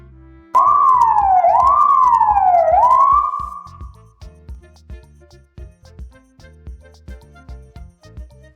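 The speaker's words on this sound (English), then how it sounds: "Listen what an ambulance makes sound." An ambulance siren wails loudly and close for about three seconds with rising and falling tones, then gives way to a steady rhythmic rumble and ticking in the background.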